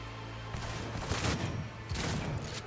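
Shotgun blasts in Cyberpunk 2077, two loud booming shots about a second apart, each with a short rumbling tail over a low game hum.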